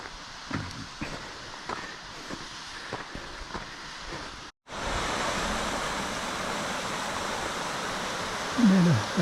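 A mountain waterfall near the Mont Blanc trail roars as a dense, steady rush of water. It follows a quieter stretch with scattered footsteps and knocks, then a brief cut to silence.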